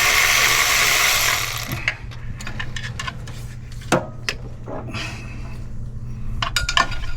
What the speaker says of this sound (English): start undoing the intake manifold. There's 8 bolts in there.